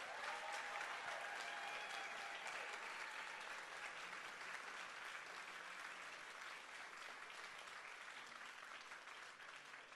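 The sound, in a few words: audience applause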